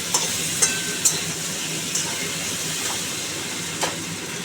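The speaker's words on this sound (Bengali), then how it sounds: "মিষ্টি দিয়ে আলু আর পেঁপেটাকে একটু লাল লাল করে ভাজতে হবে" Potatoes and papaya frying with a little sugar in a pan, a soft steady sizzle with a few sharp clinks and scrapes of stirring scattered through, no talking.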